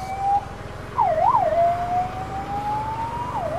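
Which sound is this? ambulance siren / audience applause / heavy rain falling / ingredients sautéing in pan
ambulance siren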